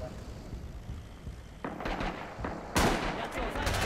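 Artillery salvos boom during a mock battle event, with two heavy broadband blasts arriving at about one-second intervals over a background of rumble and distant gunfire.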